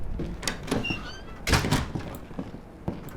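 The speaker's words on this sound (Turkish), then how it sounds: "Kapıyı kapat." Heavy wooden door swinging shut in This War of Mine, a sharp thunk with a broad burst followed by softer knocks and shuffles, close and fairly loud, no talking.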